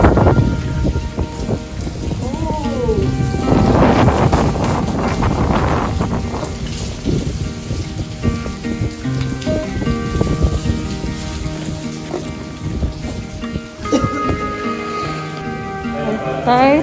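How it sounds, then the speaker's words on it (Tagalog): Strong wind and heavy rain lash a Philippine roadside stop on a jeepney trip, a loud constant roar and patter with gusting rumbles, voices talking over it at times. "Sobrang lakas po ng hangin."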